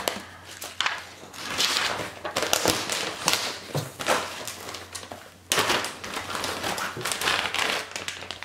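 Twelve 28mm Victrix plastic Numidian cavalry figures tipped out of a small plastic bag, giving close crinkling and rustling with sharp clicks and taps of plastic pieces over several seconds, no talk.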